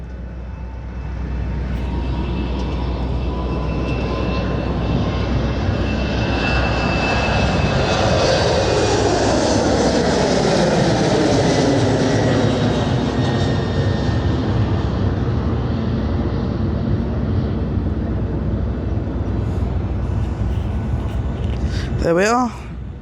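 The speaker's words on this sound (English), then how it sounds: "our Embraer 190 is now taking off, so we get a nice loud roar again" An Embraer 190 jet taking off at Madeira airport, its loud engine roar building into a broad, sustained rumble that stays strong across the whole takeoff run before a faint sweeping whine near the end.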